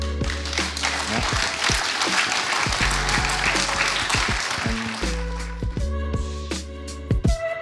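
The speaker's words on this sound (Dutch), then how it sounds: "Een warm applaus, een luid applaus voor Jean-Pierre Monceret" Warm applause from an audience at an evening talk event honoring cyclist Jean-Pierre Monseré, sustained clapping under loud music with heavy bass notes, fading toward the end.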